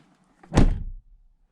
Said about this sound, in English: then we'll go to slam the door, and you'll see that it's not making a noise anymore.